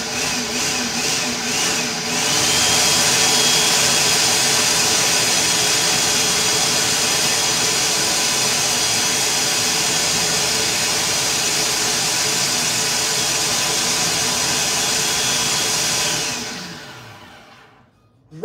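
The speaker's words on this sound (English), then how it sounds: "We're just gonna pulsate them just to chop them a little bit." Food processor chopping pecans and black walnuts, a loud steady motor whir running about fifteen seconds after a few short pulses, then stopping abruptly.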